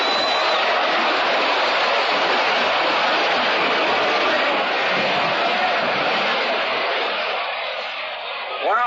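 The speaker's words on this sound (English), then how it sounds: "And listen to the crowd." Baseball crowd roaring at Ebbets Field during the 1949 World Series between the Dodgers and Yankees after a home run, a dense sustained wall of cheering that holds steady and dips slightly near the end.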